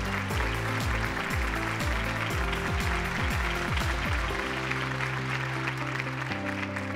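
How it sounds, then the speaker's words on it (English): Applause fills the hall at a business brands awards ceremony, a dense steady wash of clapping under a music bed with descending tonal swells. "let's have a huge round of cheer and let's hear it now for Fino Payments Bank"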